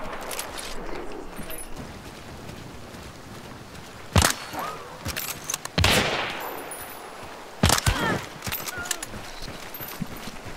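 Gunfire in a video game comes as a few loud, sharp shots, spread apart over a busy, noisy background, with voices talking at low level.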